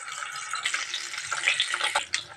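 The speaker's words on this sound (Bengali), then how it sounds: "এখন ইলিশ মাছের লেজ আর কাঁটাটা ভালো করে ভেজে নেব।" Hilsa fish tail and bones frying in a pan of hot oil: a steady bright sizzle with crackling spatters that run throughout.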